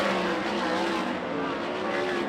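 Sprint cars roar along the back straightaway of a dirt speedway during a heat race, a dense sustained engine drone that stays loud and steady throughout.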